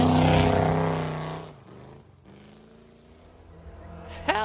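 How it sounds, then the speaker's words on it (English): A Corvette at a nostalgia hillclimb in Sweden roars loudly past close by, then its engine note fades quickly into the distance and leaves a quieter background. "is that a freaking Corvette?"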